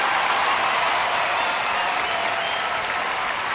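A big baseball stadium crowd of about twenty thousand roars and applauds after a leadoff base hit, a dense, steady wash of cheering and clapping that fills the whole stretch at high volume.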